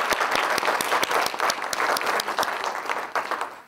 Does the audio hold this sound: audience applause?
yes